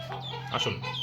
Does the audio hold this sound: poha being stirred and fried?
no